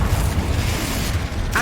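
Confringo blast spell detonating in the wizarding video game Hogwarts Legacy, a loud sustained rumbling boom with crackling burst texture, ending in a brief bright magical whoosh.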